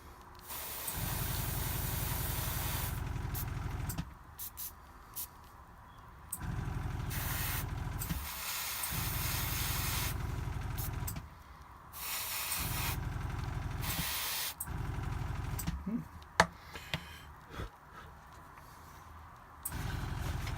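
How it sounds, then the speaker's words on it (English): An airbrush sprays orange paint in repeated hissing bursts of a few seconds each, separated by short quiet gaps, close and fairly loud, with no talking. "If you ever get bubbling in your airbrush, it means that the seal around the nozzle isn't tight enough."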